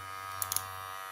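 A GLAKER cordless hair clipper runs with a steady, even electric hum for about a second, broken by a few faint clicks.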